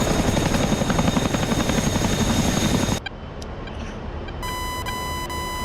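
Loud, steady rotor chop of a Chinook helicopter in a video game set in northeastern Afghanistan; it cuts out abruptly after about three seconds, leaving a quieter hum with faint beeps.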